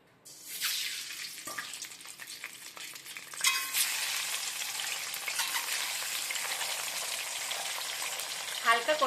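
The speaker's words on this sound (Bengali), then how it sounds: "একই তেলে আমি ডিমগুলো ভেজে নিচ্ছি" Eggs frying in hot oil left over from fried potatoes, a steady bright sizzle that swells after a few seconds and holds, with light scraping of a spatula near the end; no one talks.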